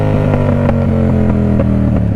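A motorcycle engine drones steadily and loudly up close, with a constant low rumble and regular pulsing tones as the rider clutches up into a wheelie; no distinct rev spike or braking change stands out.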